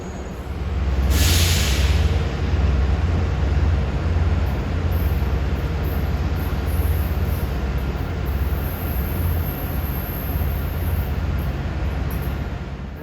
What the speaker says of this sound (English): coming up fast on number 1 track is train 2021. Ronkonkoma to Grand Central with M9s